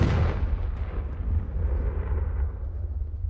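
Confringo blasting spell explosion in the video game Hogwarts Legacy: a single deep, booming blast that rolls and rumbles away over a few seconds, with no other sound on top.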